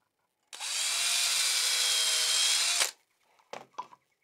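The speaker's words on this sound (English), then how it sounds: "Drill the other hole." A power drill boring a hole through scrap timber for a bench hook, a loud, close, steady high whine lasting a little over two seconds that stops abruptly, followed by a few soft knocks and handling sounds.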